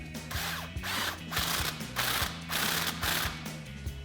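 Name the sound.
18mm socket ratchet tightening a bolt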